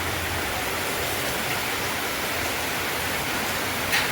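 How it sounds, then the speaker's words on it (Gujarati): A heavy monsoon downpour of rain roars as a dense, steady hiss with no breaks, loud and continuous and free of talking. "ધોધમાર વરસાદ ચાલુ થઈ ગયો છે."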